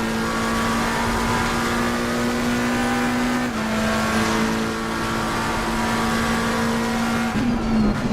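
A race car engine in Assetto Corsa Competizione holds a loud, steady high drone under full power, briefly dipping at a gear change and again near the end, with no talk.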